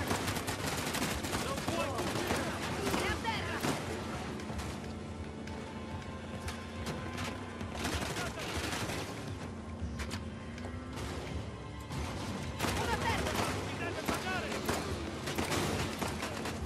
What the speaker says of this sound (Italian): Che gli spari sono tanti